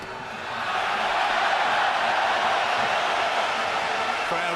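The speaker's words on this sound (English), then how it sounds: "Crowd respond as ADAMEK comes forward" Boxing arena crowd at the Klitschko v Adamek fight, a dense roar of voices swelling up after the first second and holding loud and steady, with some speech mixed in.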